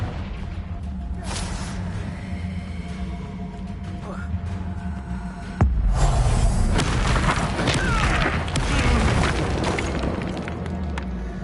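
A Confringo blasting spell explodes in the PS5 game Hogwarts Legacy, a loud booming burst in the middle of ongoing battle noise, amid game voices and other spell effects.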